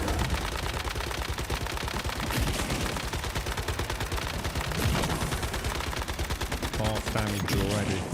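Gunfire in the video game Manibus: rapid, continuous automatic shots in a dense, loud, steady stream, with a voice talking briefly near the end.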